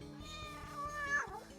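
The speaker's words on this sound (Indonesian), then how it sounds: "Itu kucing." A cat gives one drawn-out meow, rising then falling, heard close over a steady, rhythmic background hum.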